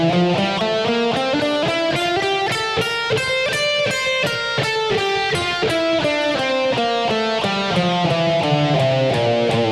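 A guitar plays a steady run of single notes up and down a Phrygian mode scale, evenly paced and clear, with no voices.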